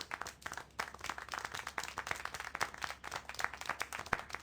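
Scattered applause in a video game, a cluster of quick, moderately quiet hand claps in uneven rhythm, with no voices.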